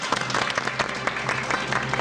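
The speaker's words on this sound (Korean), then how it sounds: "여러분, 박수로 환영해 주십시오." A Korean TV studio audience applauds to welcome a guest professor, steady, dense clapping with a faint crowd murmur, heard alone at moderate loudness.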